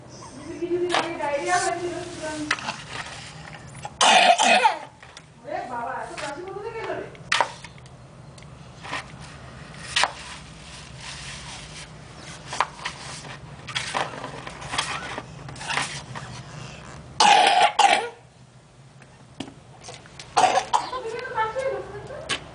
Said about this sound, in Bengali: কিরে, কাশছিস কেন?